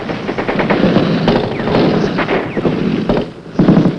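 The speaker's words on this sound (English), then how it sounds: "at least 30 VC opened fire from the village ahead" Gunfire from a 1966 Viet Cong ambush on Marines, fired from a village ahead: loud bursts of automatic shots crackling in rapid irregular volleys over a windy, rushing background, with no voices.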